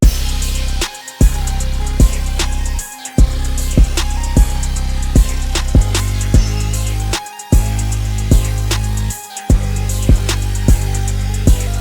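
A rage beat with booming 808 bass and sharp, punchy hits in a steady pattern, broken by brief drop-outs, loud and full.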